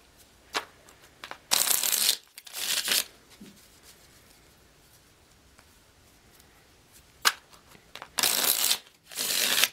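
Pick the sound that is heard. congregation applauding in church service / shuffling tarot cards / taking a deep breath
shuffling tarot cards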